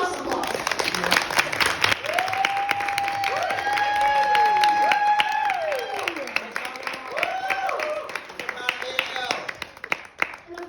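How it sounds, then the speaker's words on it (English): Steady applause from a group at a Denison Survivor final tribal council, sustained clapping with a few cheers over about ten seconds while voices speak over it. "Give yourselves applause."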